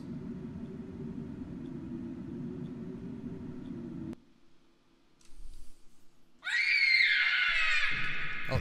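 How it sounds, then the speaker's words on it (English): Shrill screaming from animatronics in The Joy of Creation horror video game, a high, wavering cry that bursts in loudly after a sustained low rumbling drone cuts off and a short quiet stretch with faint knocks. "There's the screams."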